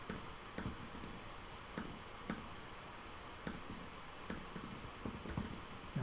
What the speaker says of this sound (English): type that into the calculator